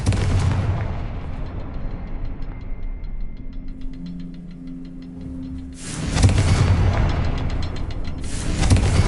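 Confringo fire spells burst in Hogwarts Legacy, a booming blast with a deep rumbling roar that fades out, then a second loud eruption near the end, with faint ticking rune chimes between.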